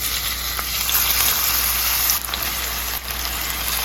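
Onions sizzle loudly in hot oil left from frying fish for a Jamaican escovitch sauce, a steady close hiss with crackling that dips briefly twice.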